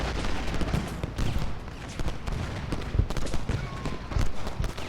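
Musket volleys and artillery fire in the Civil War strategy game Ultimate General: Gettysburg, a dense crackling fusillade of overlapping shots with heavier booms, continuous and close across the whole stretch.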